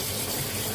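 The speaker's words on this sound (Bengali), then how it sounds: "এবার আমি একটু জল দিয়ে দেব" A small splash of water poured into a cooking pan during a dhaba-style recipe from Puri, a brief, steady rush of water heard close up without any talk.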